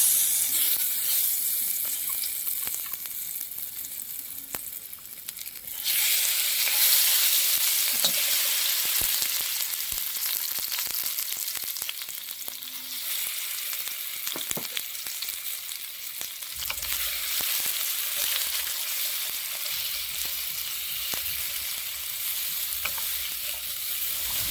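Marinated paneer fries in hot oil in a wok, with a loud, steady sizzle that swells after a few seconds and holds throughout, broken by occasional light clatters as the pieces are stirred.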